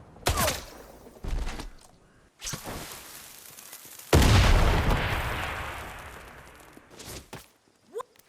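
Gunfire from the video game Atomfall arrives in several heavy bursts, with one long booming blast in the middle that slowly fades, followed by quieter shots and movement toward the end.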